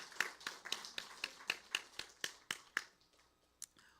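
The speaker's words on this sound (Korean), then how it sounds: "오늘 예수 믿기로 하신 여러분들 축복하며 축하의 박수 올리겠습니다" Sparse, fairly faint clapping in a Korean church Sunday service, congratulating newcomers; about ten evenly spaced sharp claps in a steady rhythm, fading out with a lone later tap.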